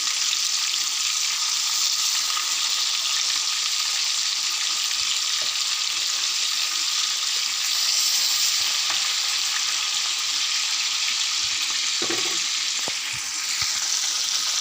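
Tandoori chicken frying in a pan, turned over to cook the other side, sizzles loudly and constantly up close, with a few scraping knocks near the end and no talking.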